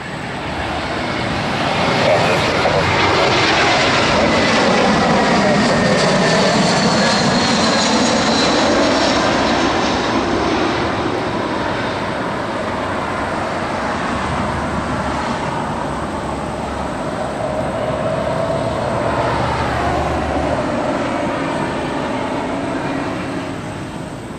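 An SAS Airbus A320 lands on runway 27 right at London, its engine roar loud and sustained throughout, swelling and easing slightly as the jet passes close by with no voices.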